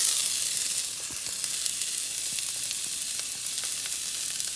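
Onions hit a hot pan of toasted cumin seeds for a paneer curry, giving a bright, steady sizzle with faint stirring clicks, close and unbroken, with no voices.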